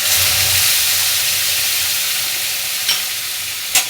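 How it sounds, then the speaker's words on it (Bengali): A ground paste of ginger, garlic, onion and green chilli fries in mustard oil with whole garam masala and cumin, making a loud, continuous sizzle with two brief sharp clicks near the end. "এটা দিয়ে কিছুক্ষণ নেড়ে চেড়ে ভাজা ভাজা হয়ে গেলে"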